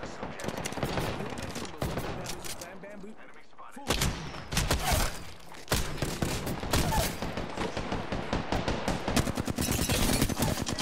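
Gunfire crackles in a shooter video game, rapid bursts and volleys of automatic shots close and loud, briefly pausing before resuming in dense rattling strings, with a voice talking over it.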